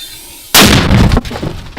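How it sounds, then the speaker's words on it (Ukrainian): A single sudden, very loud gunshot blast that booms and then trails off into a rumbling echo, with no voices. "Постріл!"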